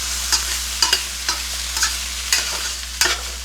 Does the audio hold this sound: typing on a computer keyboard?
no